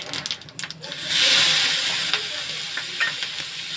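Nigella seeds, green chilli and onion frying in a wok, a steady broadband sizzle that swells loudly after a second, with a few clinks of stirring at the start.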